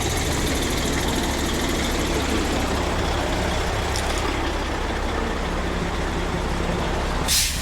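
A truck engine idles steadily at close range while its air brake system builds pressure, a continuous low rumble with a brief hiss near the end; no talking.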